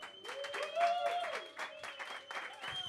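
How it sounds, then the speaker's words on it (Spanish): Studio audience applauding to welcome guest Patricia Conde on a talk show, with steady clapping over music-like tonal lines and a voice speaking over it. "digas un aplauso para Patricia Conde"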